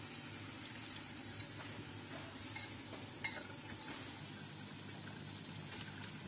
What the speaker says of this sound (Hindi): पानी डाल के मिक्स करते हैं।